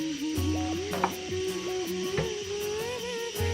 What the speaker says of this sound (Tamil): இதை ஒரு தவாவில் சேர்த்து நல்லா கோல்டன் ப்ரௌன் ஆகிற அளவுக்கு ஃப்ரை பண்ணிக்கலாம்